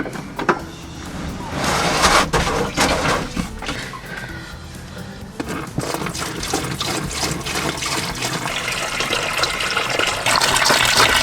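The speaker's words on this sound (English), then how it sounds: "So I'm going to use our old USB shower because I find it a lot easier to control" Water running from a small USB-powered shower inside a van, a steady splashing stream used for washing hair, continuous and close with brief louder spatters.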